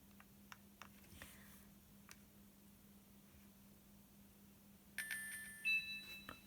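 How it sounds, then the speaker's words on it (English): A Nintendo DSi plays a short bright electronic chime after save and exit, a cluster of clear tones rising out of a quiet hum near the end, heard alone without talk. "Hear that nice chime."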